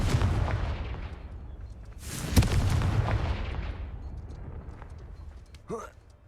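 Confringo fire spell blasts in Hogwarts Legacy, a booming burst with a long rumbling decay, then a second explosive hit, with a brief spoken voice near the end.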